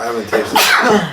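A single sharp, close sneeze bursts out during a casual cannabis tasting session, with a person's voice speaking briefly around it.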